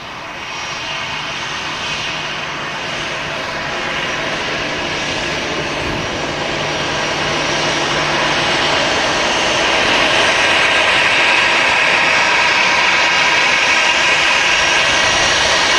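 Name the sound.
aircraft landing and exiting runway at Manchester Airport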